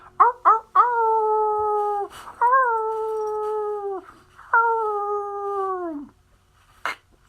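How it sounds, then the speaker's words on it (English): A dog howls like a wolf in long, drawn-out tonal wails, three sustained howls preceded by short yips, each sliding slightly downward, close and clear with no talk. "Wolf Howl"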